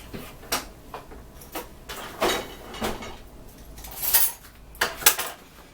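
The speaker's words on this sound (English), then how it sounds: "You can take your fork or a knife and put holes in them." A fork stabs holes in frozen food, making a string of irregular sharp clicks and scrapes against a dish, faint and close, with no voices.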